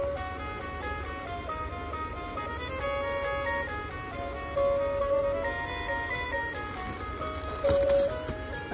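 An animated Christmas toy truck sold at Walmart plays a bright, chiming electronic melody close by, note after note in a simple looping tune over faint store ambience.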